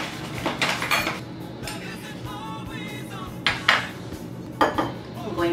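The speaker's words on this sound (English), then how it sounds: "Going to whisk these together and then set them to the side" A whisk knocks and scrapes around a bowl of flour, kosher salt, baking soda and baking powder for a blueberry lemon sour cream pound cake, giving close, irregular clinks with a few sharper taps.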